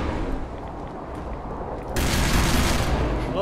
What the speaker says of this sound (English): Let's throw some plasma grenade.